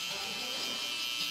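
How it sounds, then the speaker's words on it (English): An electric hair trimmer hums steadily and close during a skin fade haircut, a continuous bright buzz with no pauses. "as soon as I debulk everything with the trimmer"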